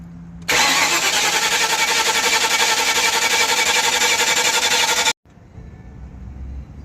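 A car engine cranks steadily for several seconds in a loud, continuous rhythmic whir without catching, then stops abruptly, leaving a quieter low rumble after.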